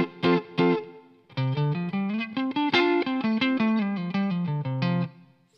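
Electric guitar played alone on the neck pickup through a distorted amp with reverb, a short opening phrase, a pause, then a run of picked notes ringing out.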